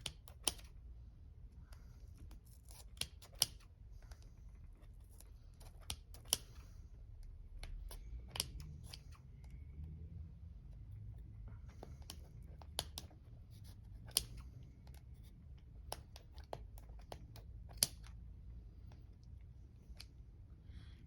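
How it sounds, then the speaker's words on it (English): Scissors snipping through crochet and champagne cork material for ornaments, a series of sharp, close clicks and crunchy cuts at irregular intervals over a low background hum, with no one talking. "This takes a bit of muscle to get through all of it, especially if your scissors aren't as sharp as you would like them to be."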